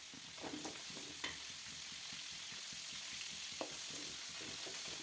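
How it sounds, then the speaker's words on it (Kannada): Green chillies and curry leaves fry in hot oil for avarekalu uppittu, giving a faint, steady crackling sizzle with a few sharp pops and occasional stirring clicks, no voices. "ಫ್ರೈ ಆದ ನಂತರ ನಾನು ಇಲ್ಲಿ ಹಸಿಮೆಣ್ಸಿಕಾಯಿನ ಆ್ಯಡ್ ಮಾಡ್ಕೊಳ್ತಿದ್ದೀನಿ ಅದರೊಳಗಡೆ ಚೆನ್ನಾಗಿ ಘಮ ಬರೋ ಥರ ಫ್ರೈ ಮಾಡ್ಕೋಬೇಕು"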